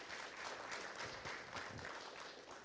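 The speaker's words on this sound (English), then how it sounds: "Give her a round of applause." Audience applause at an evening benefit event for a social change institute, a steady wash of many hands clapping throughout, moderately loud and continuous without breaks.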